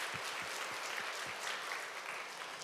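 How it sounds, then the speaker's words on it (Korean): Congregation applause in a church during a mothers' prayer meeting, a faint, steady wash of many hands clapping heard from a distance with no talking over it. "우리 수험생 어머니들에게도 격려의 박수 한번 부탁드리겠습니다."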